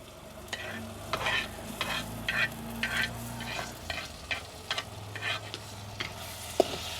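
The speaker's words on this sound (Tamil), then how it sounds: "நல்ல எண்ணெயில் வதக்கி எடுக்கணும்." Shallots, green chilies and garlic sautéed in oil in a pan, with a steady soft sizzle and repeated scraping stir strokes at close range, no talking.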